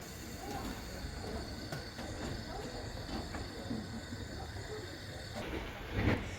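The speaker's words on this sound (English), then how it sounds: "here is engine number 1, Talyllyn herself trundling down into the platform" Talyllyn, the 1864 Fletcher Jennings & Co steam locomotive number 1, trundles into a station platform with a steady rolling rumble and hiss, and a louder burst of steam near the end.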